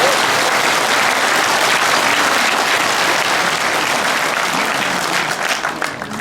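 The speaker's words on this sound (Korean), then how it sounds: "서로에게 감사의 박수로 인사를 나누고 시작하도록 하겠습니다." A lecture hall audience at a Korean patriotic lecture event gives a steady, loud roar of applause for about six seconds, the many hands thinning slightly toward the end.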